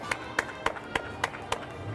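Applause rises for the Novato Human Needs Center at a Fourth of July parade, heard as a steady run of separate sharp claps at an even pace, fairly close and moderately loud over low background noise.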